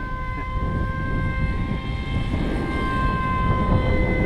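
Battery-powered electric RC MiG 2.88 model plane hovering outdoors in wind, a loud sustained motor whine with steady tonal pitch, fairly close and continuous.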